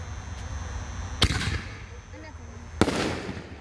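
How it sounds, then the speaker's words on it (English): A Brocade Crown canister shell from Neon Fireworks bursts with two sharp, loud booms about a second and a half apart, each followed by a crackling decay, heard at a distance. "This is the Brocade Crown shell."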